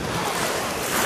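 Sea waves wash steadily onto a crowded Spanish beach, a continuous broadband surf roar with no talking.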